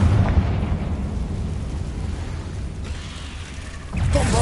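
A Confringo fire spell bursts in Hogwarts Legacy: a rumbling, sustained blast with a crackling tail that eases off, then a second loud burst near the end, with no voices over it.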